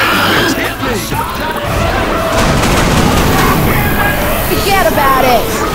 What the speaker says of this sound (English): Incoming! Set off the fireworks!